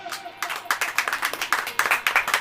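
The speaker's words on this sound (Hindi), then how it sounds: "ताली बजाइए" An audience claps together in a dense, steady burst of applause, loud and close, with no talking over it.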